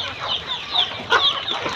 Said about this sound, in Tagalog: meron ako napagawang silungan ng mga manok. Ayan o, yung sisiw.